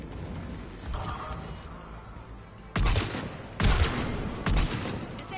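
Gun turrets fire in the science-fiction game Mass Effect, loud bursts of rapid shots arriving in three sharp volleys over a quieter bed of game noise, with no talking.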